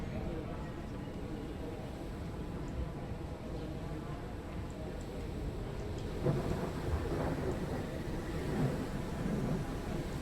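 Low rumbling thunder from a lightning storm in Train Sim World 5 rolls in the distance over soft rain, with a louder crackling peal later and someone talking faintly beneath it.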